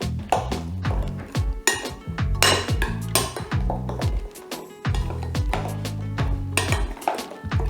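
A barbecue marinade of salt and olive oil being mixed in a bowl: steady, busy clinking and scraping of a utensil against the dish, with sharp metallic taps repeating throughout at close range.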